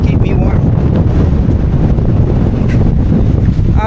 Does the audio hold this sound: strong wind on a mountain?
yes